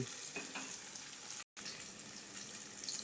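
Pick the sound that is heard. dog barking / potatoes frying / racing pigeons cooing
potatoes frying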